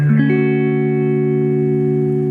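An electric guitar through an amplifier set with bass and treble just over half and middle just under half, giving a balanced, warm tone: a single strummed chord rings out loudly and sustains as it slowly decays, with no voices.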